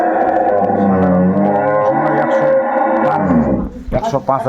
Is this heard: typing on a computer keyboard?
no